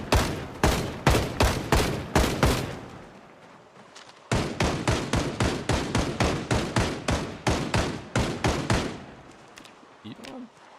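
Rapid video game gunfire, bursts of sharp, loud shots in quick regular succession, pausing briefly before another long run of repeated shots, ending in a quieter clatter.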